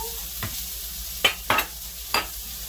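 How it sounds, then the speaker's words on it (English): Cheese and heavy cream being stirred together in a crowded skillet for a keto chicken cordon bleu sauce, with a few scattered scraping stirs over a faint steady background. "just start mixing that together"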